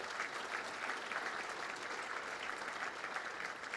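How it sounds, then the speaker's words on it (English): Crowd applause at a junior Australian rules football gala awards night in Brisbane, a steady dense wash of many hands clapping throughout, fairly loud and even with no break. "Yeah, give them a round of applause."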